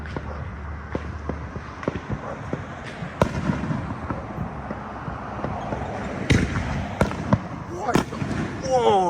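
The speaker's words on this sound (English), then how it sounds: "The fireworks." Fireworks exploding around a residential neighborhood on New Year's Eve, a steady run of sharp bangs and crackles near and far, with a few louder close bursts and whistling rockets, while people talk and exclaim throughout.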